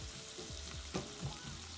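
Garlic sizzles in a hot pan for shrimp and grits, a soft steady hiss near and low in level, with a couple of faint knocks from the pan.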